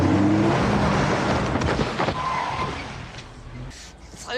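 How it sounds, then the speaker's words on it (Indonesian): A car rushes in close, its engine loud and broadband with a passing swell and faint tyre noise, nearly running into a group of people before fading out. "datang sebuah mobil hampir saja akan menabrak mereka"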